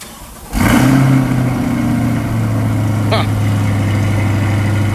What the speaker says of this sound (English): Little remote start action for you guys.